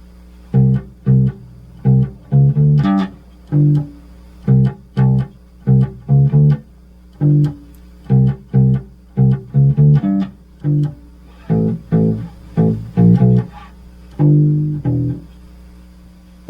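Solo bass guitar picking out a well-known line, a loud, clean run of short plucked notes in a repeating riff pattern, with no other instruments or voices.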